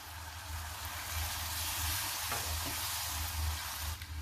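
Tomatoes go into hot masala sizzling in a pan while urad dal with bathua is cooked, giving a soft steady frying hiss with low hum beneath and a few faint stirring clatters.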